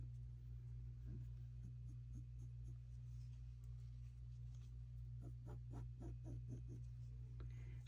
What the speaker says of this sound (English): So draw in the line for you to cut.